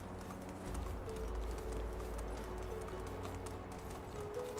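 A donkey's hooves clip-clop steadily and continuously in the Medieval Dynasty video game, an even walking rhythm heard alone at moderate distance.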